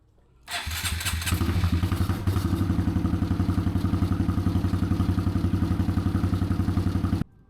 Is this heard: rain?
no